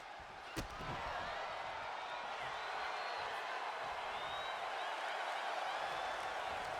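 A steady crowd roar in a WWE 2K25 wrestling arena as Bianca Belair works up the audience, a continuous wash of cheering with a single sharp thud near the start.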